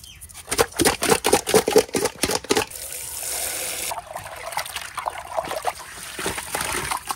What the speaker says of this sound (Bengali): মাছটিরে এখন নুন দিয়ে ধুইতে হইবে।